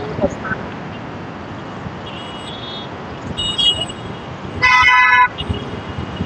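Busy express highway traffic with auto rickshaws and cars, a constant road rumble broken by several short horn toots and one longer honk, while someone talks over it.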